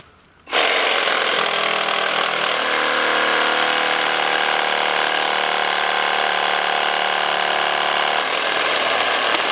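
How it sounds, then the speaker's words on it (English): A reciprocating saw cuts through tree branches outdoors at a timber frame site, starting abruptly after a brief quiet moment and then running loud and steady with a constant buzzing drone until the end. "see if we can't cut some of these off"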